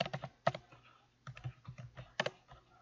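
Computer keyboard typing in short clustered bursts of keystrokes with brief pauses between, fairly close and moderately loud, no voices.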